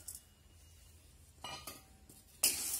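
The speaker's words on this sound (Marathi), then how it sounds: "मी आता चण्याची डाळ घालून घेते" Chana dal poured into a pan and dry-roasted over a low flame for chakli bhajani flour: quiet, sparse clinks and light rattles against the pan, with a sharper scraping clatter near the end.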